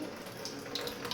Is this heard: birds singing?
no